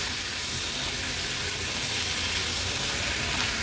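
Brinjal curry with jaggery sizzling steadily in a pan as it is mixed, a continuous close hiss and bubbling with faint stirring, no voices.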